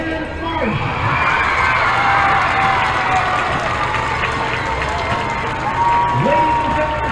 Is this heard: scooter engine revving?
no